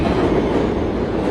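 A New York City subway train heading to Bay Ridge, heard from inside the car as a loud, steady rumble and roar of running wheels with faint rail clatter.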